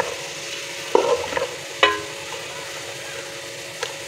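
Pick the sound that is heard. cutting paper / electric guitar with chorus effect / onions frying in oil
onions frying in oil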